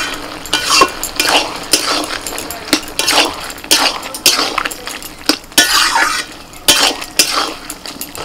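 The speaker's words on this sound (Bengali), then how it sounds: "ভাজা চিংড়ি মাছ দিয়ে দিচ্ছি।" Fried prawns stirred into bottle gourd cooking in a pan, with repeated clinks and scrapes of a utensil against the pan and a soft sizzle running underneath, close and fairly loud.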